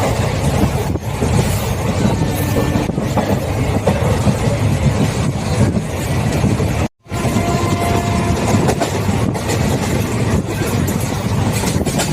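TPJ-PGT Express train no. 16843 running between Trichy Fort and Karur, a steady loud onboard rumble and clatter of the wheels, continuous apart from one brief dropout.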